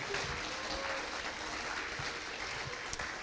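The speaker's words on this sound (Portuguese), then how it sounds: "Aplauda ao Senhor mais forte." A church congregation applauds during a Sunday thanksgiving service, giving a continuous wash of clapping from many hands in a reverberant hall. No speech is heard.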